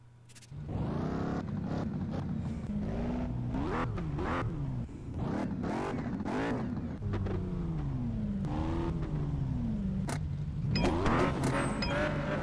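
Porsche engine revving and accelerating in the mobile racing game Need For Speed No Limits, a loud steady roar with rising and falling pitch sweeps across repeated gear shifts, continuous throughout.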